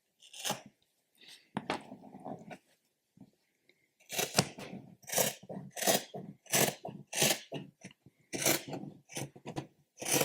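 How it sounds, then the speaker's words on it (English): Repeated crisp snips and rasping cuts of dull scissors through T-shirt fabric, in irregular bursts with short pauses, close and fairly loud. "And yeah, these scissors need to be sharpened."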